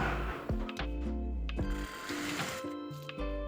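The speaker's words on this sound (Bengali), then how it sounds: "একই নিয়মে আমি আরেকটি পাশ সেলাই করে নিচ্ছি।" Sewing machine stitching the side seam of a kameez, bursts of mechanical whirring broken by short pauses and clicks, close and fairly quiet with no talk.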